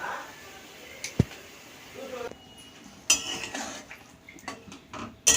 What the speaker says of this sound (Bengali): ঝোলটা ফুটে গেছে আমি এই ছানার কোপ্তাগুলো দিয়ে দিচ্ছি